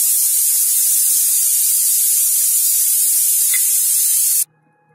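A mixer grinder whirs steadily and loudly as it grinds cumin, coriander powder, salt and turmeric, a continuous hissing roar that cuts off abruptly near the end, leaving near silence.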